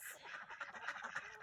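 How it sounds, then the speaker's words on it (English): Ducks quack in a chicken coop, a quick run of nasal quacks close by but fairly quiet, lasting only a moment. "Those are my ducks."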